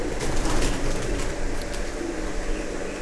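High-flyer pigeons coo steadily nearby in a loft in Pakistan, soft throaty calls repeating over a constant low background hum.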